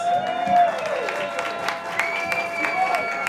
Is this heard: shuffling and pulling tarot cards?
no